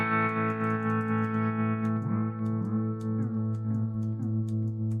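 A sustained electric guitar tone wavers and warbles in pitch through an analog-style bucket brigade delay, with repeating echoes trailing behind the played notes.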